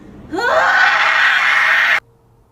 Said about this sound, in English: For those primal screams, not to invoke an ounce of humanity.